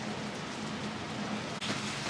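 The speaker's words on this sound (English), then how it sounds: "Just wish it wasn't raining." Steady rain falls on a downtown street in Juneau, Alaska, a soft, even hiss of drops on pavement, faint and constant with no voices.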